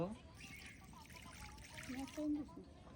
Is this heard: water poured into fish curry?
yes